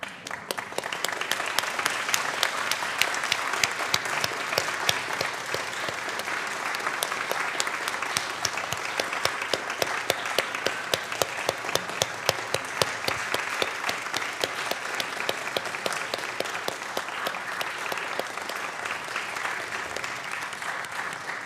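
A congregation at a Unitarian Universalist Sunday service claps for nursery volunteers, a long steady stretch of dense, even applause with crisp individual hand claps, sustained at moderate loudness without fading.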